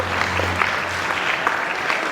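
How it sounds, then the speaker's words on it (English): Students at a school investiture ceremony receive applause after a march past, a short burst of crowd clapping, steady and fairly close, with a low hum underneath. "Big clap for you all."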